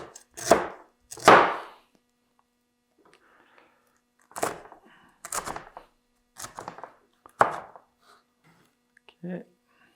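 A knife chops pork on a cutting board, several sharp, separated strikes spread unevenly, with someone talking between them.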